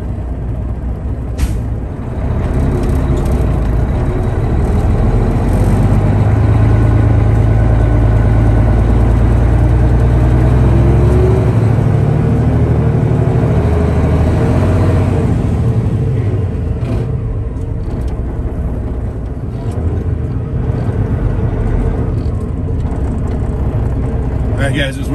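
A truck towing a trailer pulls out of a Love's truck stop, with a loud, steady low engine rumble and road noise throughout and muffled talk over it.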